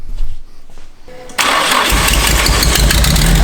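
A car engine cranks and catches after a temporary ground is added, faint clicks and rustle first, then a sudden loud start settling into a steady close idle, with voices around.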